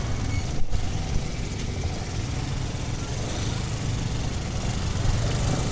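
A motorcycle engine runs steadily up close throughout, a constant low rumble with a brief dip early on and no talk over it.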